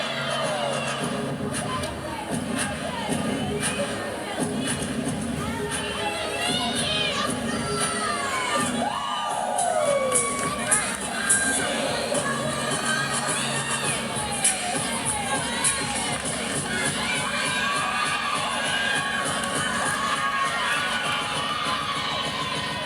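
A gymnastics meet crowd at an Iowa State vs LSU women's meet cheers and shouts continuously, loud and sustained, with high-pitched yells and whistles rising above the roar.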